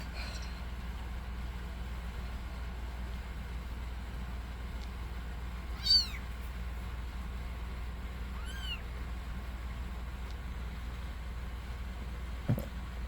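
Abandoned kittens making a few faint, brief meows at about six and nine seconds, heard over a steady low background hum with no talking.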